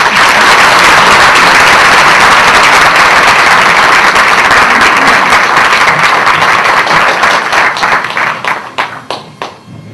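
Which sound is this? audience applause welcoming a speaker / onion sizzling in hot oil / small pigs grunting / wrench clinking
audience applause welcoming a speaker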